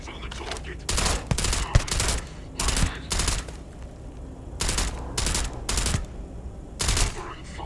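Gunfire in the sci-fi shooter Starfield: repeated loud bursts of automatic fire in short volleys, separated by brief pauses over a low background rumble.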